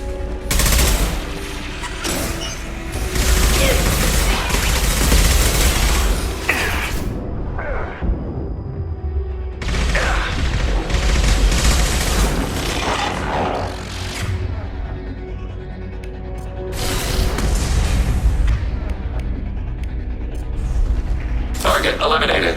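Automated turret in the Mass Effect 2 video game firing its guns in loud sustained bursts with heavy booms, pausing briefly between volleys, mixed with game effects and occasional voice.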